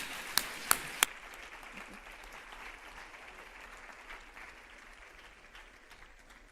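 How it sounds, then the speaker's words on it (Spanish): An audience at an education congress applauds to welcome a speaker, a few sharp close claps at the start, then steady, softer crowd applause that continues throughout. "la doctora María Victoria Reizábal, a quien les pido recibamos con un fuerte aplauso."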